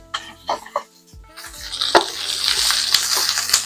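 Sausage, peppers and onions are stirred in a pan with scraping and clattering against the metal, over a soft sizzle, with a few short coughs or vocal sounds at the start.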